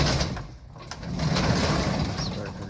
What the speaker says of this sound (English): I'll have to open this door.